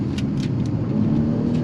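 A 2018 Jaguar XF S Sportbrake wagon with a roughly 400-horsepower engine powering out of a turn, its engine note swelling into a steady near drone with a few light rattles, no talking.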